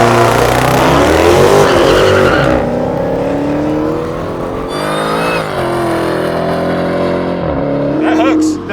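A Dodge Demon on drag tires revs hard and launches with launch control, its engine roaring loud and close, pitch climbing and shifting as it pulls away, with tire noise and people's voices over the racket.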